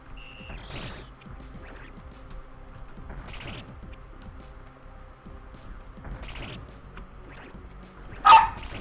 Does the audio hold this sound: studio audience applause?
no